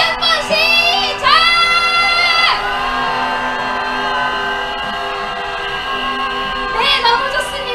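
Marchers at a candlelight protest rally outside the US embassy shout together in a loud, sustained cheer, with shrill voices rising at the start and swelling again near the end.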